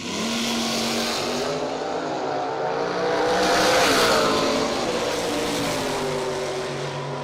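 A Buick and a Camaro launch side by side in a drag race at the Yellow Bullet Nationals, with loud, roaring engines swelling as the cars pass and then fading down the strip.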